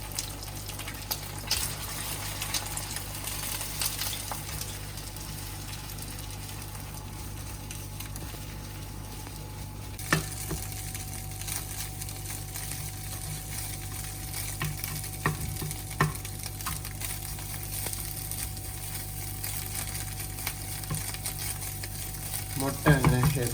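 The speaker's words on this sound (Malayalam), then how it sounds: "മുട്ട അങ്ങനെ ഏതാണ്ട് ഫ്രൈ ആയിട്ടുണ്ട്." Eggs fry with salt in a pan while chicken fried rice is made at home, giving a steady close sizzle over a constant hum, with occasional scrapes and clinks of stirring.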